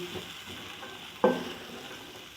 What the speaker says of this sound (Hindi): चनों को सिर्फ मैं मसाले के साथ 5 मिनट भूनूंगी।